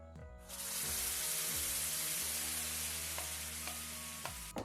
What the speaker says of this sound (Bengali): এদিকে কড়াটা গরম হয়ে গেছে এর মধ্যে দিয়ে দিচ্ছি আমি যে আমের পাল্পটা বের করে রেখেছি সেটাই